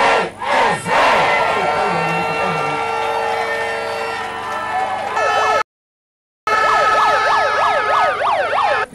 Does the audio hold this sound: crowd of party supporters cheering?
yes